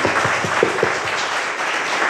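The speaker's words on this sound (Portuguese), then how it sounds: "Então aplauda o irmão que é obediente." Steady applause from a church community gathering, a dense wash of many hands clapping at once, with a faint voice briefly heard underneath near the start.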